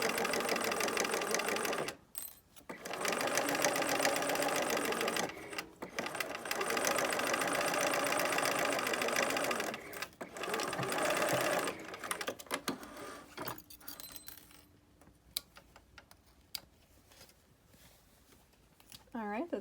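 Sewing machine running in long top-stitching bursts with brief pauses between them while the needle is dropped and the fabric pivoted at a corner, fairly close and steady, with quieter handling sounds toward the end.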